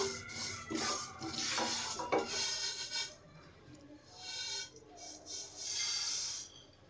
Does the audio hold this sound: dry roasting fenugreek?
yes